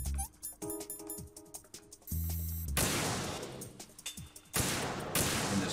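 Gunfire in Metal Gear Solid 2 crackles as a string of sharp shots, then gives way to dense, sustained bursts of rapid automatic fire, loud and close, with brief pauses between volleys.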